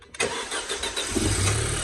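An Audi B7 engine cranks and catches after a brief quiet moment, then settles into a steady, loud idle rumble with a low drone; no one speaks.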